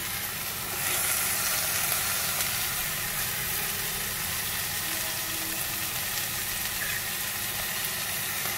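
String beans and sweet corn cook gently over a low gas flame, giving a steady, soft broadband sizzle that holds evenly throughout with no voices.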